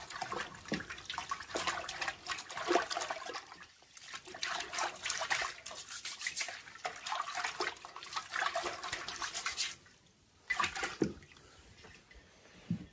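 Freshly dug chicory roots being rinsed and scrubbed under running water, with a continuous splashing and trickling that is close but fairly quiet and briefly pauses near the end.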